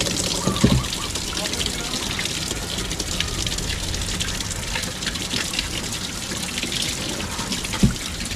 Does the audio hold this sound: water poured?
yes